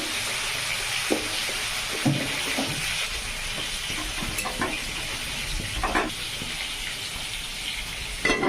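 Eggplant pieces hit hot oil in a pan with popping mustard seeds, giving a steady broadband sizzle with scattered sharp crackles and stirring clatters, close and moderately loud, with no talking.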